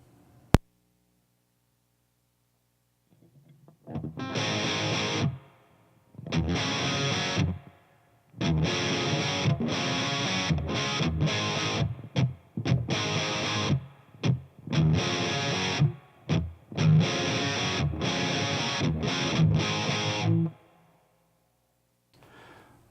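Distorted electric guitar plays the riff sequence, loud crunchy chord bursts separated by short rhythmic stops, repeating over roughly seventeen seconds with no talking.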